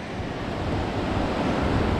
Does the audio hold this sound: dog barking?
no